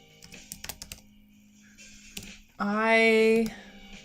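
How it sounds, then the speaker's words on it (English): Keys tapped on a computer keyboard during a writing sprint: a quick cluster of clicks, then a lone tap, followed by a person speaking briefly. "what was I typing?"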